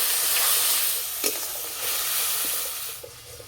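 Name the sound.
spice paste sautéing and being stirred in pan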